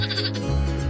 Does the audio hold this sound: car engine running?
no